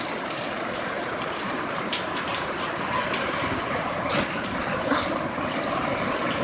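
Steady outdoor rain falls without pause, a dense, even hiss of drops striking surfaces amid abundant running water, continuous and fairly close throughout with no voices.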